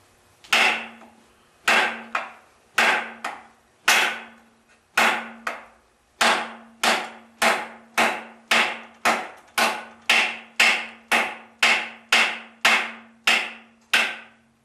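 The spine of a Cold Steel AK 47 knife is struck heavily, about seventeen sharp, loud, ringing impacts in a steady rhythm, each a crisp crack followed by a short metallic ring.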